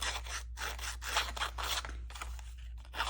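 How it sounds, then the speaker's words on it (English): Edge of a paper strip roughed by hand without sandpaper, a soft rhythmic rasping and scraping in short repeated strokes, quiet and close over a low steady hum. "what if I tried to just rough the edge a little bit like this?"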